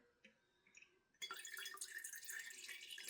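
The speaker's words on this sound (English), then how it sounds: "We'll give that a minute to drip through" Used paint stripper drips through a filter into a bottle after a three-coat paint removal on a model car, a few quiet drips followed by a steady close liquid trickle and splash that grows louder and fills the rest.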